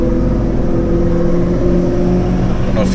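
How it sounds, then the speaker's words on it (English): An Audi R8 sports car drives past, a steady loud engine roar with a continuous low drone throughout. "That was an R8, beautiful car."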